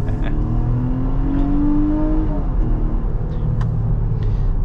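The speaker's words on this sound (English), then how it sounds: "So this 9-speed automatic transmission shifts quick when it's under load." A 2023 Nissan Pathfinder Rock Creek with a 9-speed automatic accelerating from inside the cabin, steady engine drone rising in pitch then dropping as a gear shifts, with low road rumble throughout.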